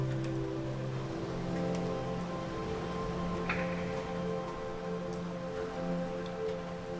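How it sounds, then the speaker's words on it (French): Gentle rain in a calm meditative setting patters softly and steadily, a soft even hiss of drops with a faint low hum beneath, holding at a quiet level throughout. "la pluie commence doucement à s'apaiser"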